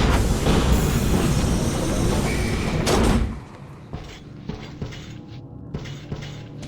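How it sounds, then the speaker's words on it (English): Heavy doors in the video game Metro: Last Light rumble loudly and slam shut at about three seconds, followed by quieter mechanical clanks and knocks in a dim, echoing space. "The doors are closing."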